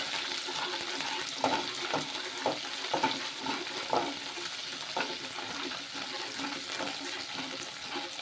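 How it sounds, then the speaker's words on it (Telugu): Ginger and garlic paste frying in oil for a fish curry gives a continuous hissing sizzle with soft, regularly spaced stirring scrapes, moderately quiet and without speech. "అల్లం వెల్లిపాయ నూనెలో బాగా వేగాలండి."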